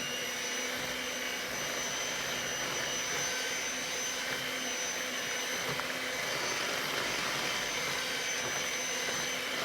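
Honey bun cake batter from a boxed mix being beaten with an electric mixer, a steady, fairly quiet motor whir running continuously without pause.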